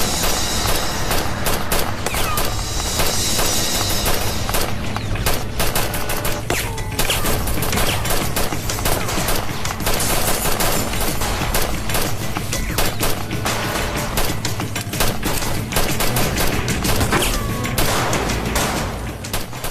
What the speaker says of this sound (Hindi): वो बस पर गोलियां चला रहे हैं